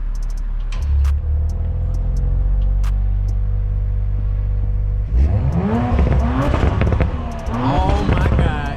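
An Audi RS5 exhaust set to dynamic mode idles with a deep rumble, then revs hard in rising and falling sweeps, with sharp crackling pops between the revs, all close and loud.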